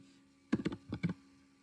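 Someone enters a password on a computer keyboard, producing a quick cluster of soft key clicks, roughly eight taps over half a second, heard fairly quietly and close.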